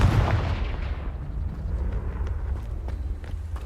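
A Confringo fire blast spell from Hogwarts Legacy erupts in a loud, booming burst that rolls off into a long, rumbling, crackling decay with a few faint pops near the end.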